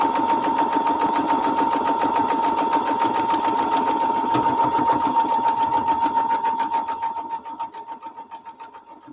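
A sewing machine runs steadily, stitching a strawberry foundation-paper-pieced quilt strip along the line, a continuous close whir that slows into separate pulsing stitches before fading near the end.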